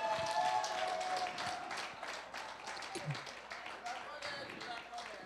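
Steady, dense applause from a crowd at a live session event, many hands clapping continuously at a fairly even loudness throughout.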